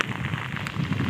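Heavy rain pours across an open field in a steady, dense hiss of drops striking the ground, constant and fairly close with no talk over it.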